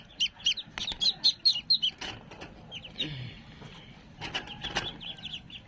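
Black ducklings give a quick run of high, thin peeps close by at the start, then quieter scattered peeps over soft rustling.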